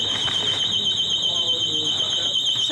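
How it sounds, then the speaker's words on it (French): A supermarket anti-theft security alarm, set off by a tagged salad, sounds a continuous high, shrill electronic tone throughout, loud and steady, with people talking underneath. "Parce qu'en fait, il y a un système d'alarme."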